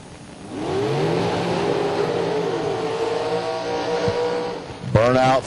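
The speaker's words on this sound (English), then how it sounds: "Burnouts coming up, being complete now." Drag racing cars at a bracket race doing a burnout, a loud sustained engine roar and revving with tyre squeal filling the clip, rising again sharply near the end, with a commentator talking over it.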